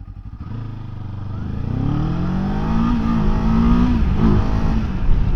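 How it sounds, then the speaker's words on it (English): A Kawasaki Ninja 7 Hybrid motorcycle accelerates hard in e-boost mode, the engine note rising steadily in pitch as it pulls away, loud and close, with a brief clatter near the end. "that's got a fantastic acceleration with that e-boost on"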